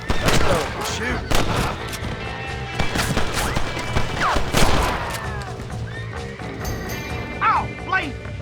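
Gunfire in the Western game Red Dead Redemption, a string of sharp revolver and rifle shots in irregular bursts with ricochet whines and clattering, mixed with game sounds and someone talking over the action.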